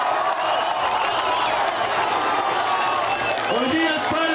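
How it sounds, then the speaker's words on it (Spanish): A crowd at a festive folk-music gathering applauds and cheers in a continuous, roaring wash, with a voice rising over the noise near the end. "Démosle un fuerte aplauso."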